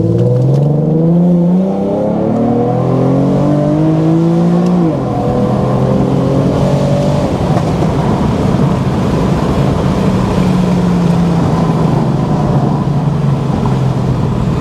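A tuned Infiniti Q50 accelerates hard, its engine note climbing through rising revs, dropping at a gear change, then pulling again. The sound is loud and close, with a continuous roaring drone and no speech.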